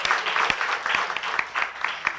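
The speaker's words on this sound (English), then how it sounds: "One last round of applause for all of us, for all the participants, for all the judges." Steady audience applause for the participants and judges at the close of an African disability rights moot court competition, dense clapping with a few sharper claps standing out, close and even throughout.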